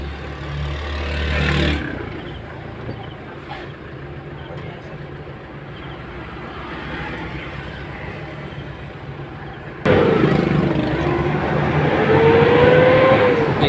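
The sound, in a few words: Kia Bongo 3 CRDi engine during test drive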